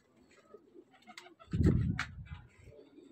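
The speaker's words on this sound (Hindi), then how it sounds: "ये जी चैम्पियन कबूतर है" A champion pigeon coos nearby, a soft throaty rolling call that swells in the middle, with faint chirps and background noise around it.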